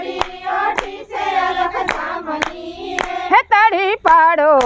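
Hands clap in a regular beat along with a sung Gujarati devotional song in praise of Lirbai, sharp claps punctuating the loud, close singing voice throughout.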